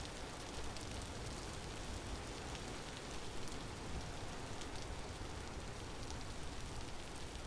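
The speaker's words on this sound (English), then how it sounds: "It's just pouring down rain." Pouring rain in the survival game Vintage Story, a steady, dense hiss of drops hitting surfaces that holds even and unbroken, with no voices.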